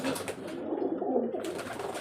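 Breeding pigeons coo softly in a loft, a low, rolling, repeated murmur nearby, with no voices.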